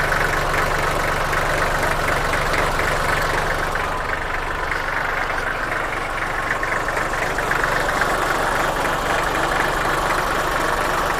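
A used Kubota or Iseki walking tractor engine idling nearby, a loud steady low chugging with an even rhythm and no voices over it.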